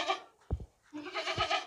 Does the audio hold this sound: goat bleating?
yes